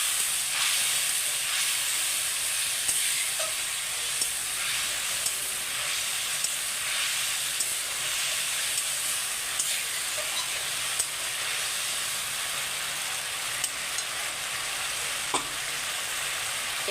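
Spice masala with a splash of water frying in a pan for a katla fish head curry: a continuous close hiss and sizzle with scattered soft ticks, no voices.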